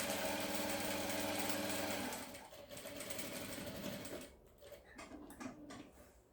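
A sewing machine sews a narrow safety seam on a cosmetic case, whirring steadily and loudly at first, then slowing into softer, uneven bursts of mechanical clicking.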